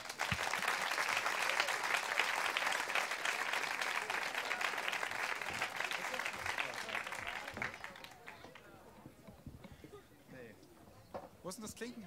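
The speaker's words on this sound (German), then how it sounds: "holt ihn auf die Bühne mit eurem schönsten 10-Punkte-Applaus" Dense audience applause fills a song slam stage at an open-air summer theater festival, loud and sustained for about eight seconds before thinning into scattered claps, with voices and cheers rising near the end.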